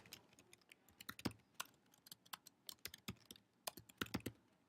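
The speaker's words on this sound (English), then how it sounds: "I'm going to type that in there" Fingers tap out text on a computer keyboard, an uneven run of crisp close clicks with brief pauses between bursts, quiet and without voices.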